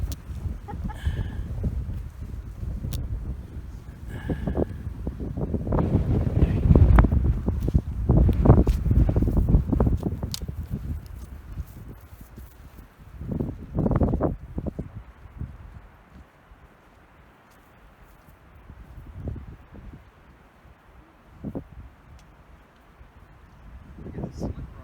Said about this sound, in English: There's another big gust. Hold on to your hat.